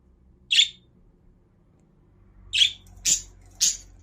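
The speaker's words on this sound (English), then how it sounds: "The wild birds are supposed to be outside, baby girl." Wild birds squawk indoors, giving four short sharp calls: one alone, then three in quick succession after a pause, over a quiet room.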